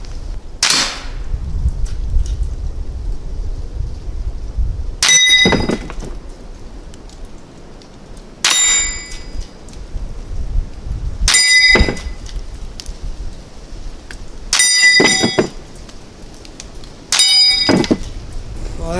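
A Browning BL-22 lever-action rimfire rifle with a peep sight fires at bottles at longer range, with six sharp cracks spaced a few seconds apart, some followed by a clink of glass, over quiet outdoor background.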